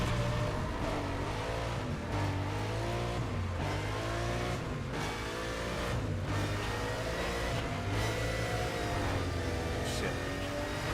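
A McLaren racing through Need for Speed ReWritten, its engine droning and revving steadily with rising and falling pitch as it shifts through gears, loud and continuous for the whole stretch, with no talking.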